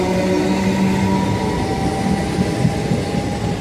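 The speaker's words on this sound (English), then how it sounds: "That's 319-006 and 319-432 on 2 Bravo 23, the 1114 ThamesLink service from London Blackfriars to Sevenoaks." Class 319 Thameslink electric train, two units coupled, running at Bromley South station on the South Eastern Main Line; a steady, loud rumble and hum of the passing train continues throughout, with no talk.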